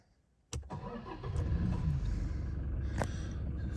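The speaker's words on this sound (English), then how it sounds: "Okay, so we'll start the car up." A Toyota Hilux 2.4 manual double cab engine cranks and catches after a quiet half second, then settles into a steady idle, close and clear with no talking.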